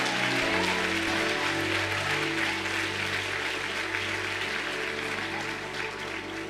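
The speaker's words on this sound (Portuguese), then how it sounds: "eu já estava aplaudindo com mais força" A church conference congregation applauding together, a dense continuous wash of clapping with a low musical drone underneath, steady and full throughout with no clear voices.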